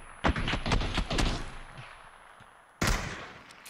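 Gunfire in PUBG: a sharp burst of several rapid shots early on, another cluster around the one-second mark, then a loud single blast near the end, all fairly close and unaccompanied by talk.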